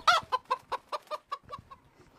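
Chickens cluck in a rapid series of about ten sharp, evenly spaced calls, loud and close at first and fading gradually, with no talking.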